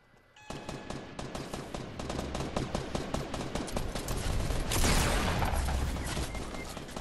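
Rapid automatic gunfire in the video game Fortnite, a long continuous burst of sharp shots that grows louder and denser midway before easing slightly, with no talk over it.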